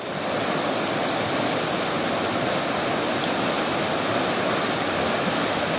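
A fast-flowing river rushes through a forest, making a dense, constant roar of churning water that stays loud and steady throughout with no voices.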